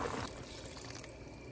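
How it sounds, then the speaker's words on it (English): Water pours into a Dutch oven holding a duck, a steady close trickle heard alone for a moment. "I'm gonna add more water."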